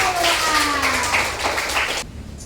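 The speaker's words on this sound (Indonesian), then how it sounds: "kita beri tepuk tangan dulu" A classroom group of listeners claps during a teacher's lesson, with a burst of fairly close, busy applause that fades out abruptly near the end.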